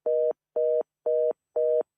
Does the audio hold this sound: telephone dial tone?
yes